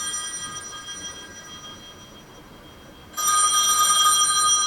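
A telephone rings in a music video with a steady, buzzing electronic ring that becomes noticeably louder partway through and continues without any speech.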